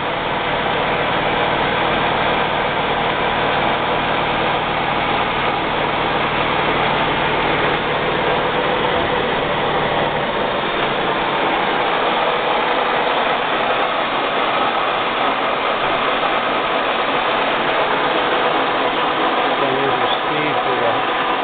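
A 14 by 40 inch metal lathe runs steadily with a dense, unbroken mechanical hum and whir close up. The drone is loud, and its low rumble drops off about halfway through.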